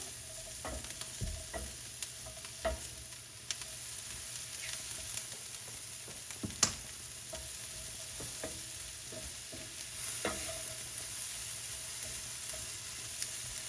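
Onions and mushrooms fry in a pan for beef stroganoff, a soft continuous sizzle with scattered clicks and scrapes from stirring, fairly quiet and close, with no talking.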